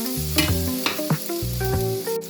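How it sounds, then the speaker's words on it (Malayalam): Ginger and garlic dropped into hot oil, sizzling loudly and close with a constant frying hiss and bright spattering bursts over a short stretch, with no voices. "നമ്മുടെ ഇഞ്ചിയും വെളുത്തുള്ളിയും കൂടെ നമുക്ക് എണ്ണയിലേക്ക് കൊടുക്കാം"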